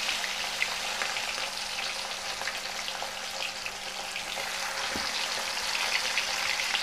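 Marinated rohu fish pieces fry in hot oil with a loud, continuous crackling sizzle, dense and close, holding steady throughout with only a brief thud partway.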